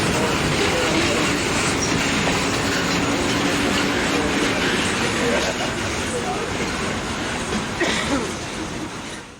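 Central Oregon and Pacific freight train rolling past with its locomotives at night, a loud, steady roar of wheels and rumble that fades slightly toward the end.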